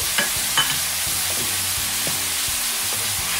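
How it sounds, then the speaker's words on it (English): Mushrooms tossed into a hot pan alongside steak, a loud crackling sizzle with several stirring scrapes and clicks spread through, close and continuous with no voices. "I'm gonna go ahead and put all the mushrooms in"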